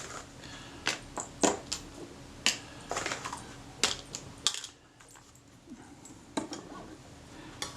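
Small sharp metallic clicks and taps as the rewind knob of a Kodak Retina IIIc camera is unscrewed by hand, irregular and close, quiet between the clicks.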